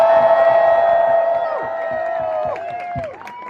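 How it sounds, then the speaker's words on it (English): A crowd at an Atlanta post-debate campaign fundraiser for Andrew Yang cheers and whoops for Evelyn, with loud overlapping voices and scattered claps that build, then taper off after about three seconds. "let's give Evelyn a huge round of applause"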